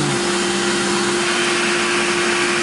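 A 5/16 end mill takes a 60-thousandths-wide, roughly 3/8-inch-deep cut at 4,000 RPM and 20 inches a minute while machining a new lathe apron, a loud, constant broadband roar with a steady tonal hum throughout.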